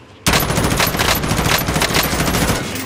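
Sustained automatic gunfire from Call of Duty Warzone on Rebirth Island, a loud rapid burst that starts abruptly and rattles on without pause for nearly three seconds.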